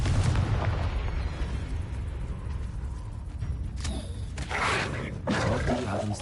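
A loud booming spell blast in a Hogwarts video game, a sustained roaring rumble with crackling bursts, followed by a few sharp secondary impacts.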